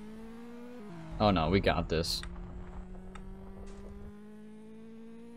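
A pink racing car in the Street Legal Racing Redline video game holds a steady engine drone that climbs gradually in pitch, running under excited talk from start to end.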